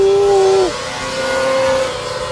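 A Kawasaki Ninja ZX-25R revs hard near its 18,000 RPM ceiling with a loud, piercing high-pitched wail, then the pitch drops sharply as the revs fall away and settle into a lower, steady engine drone.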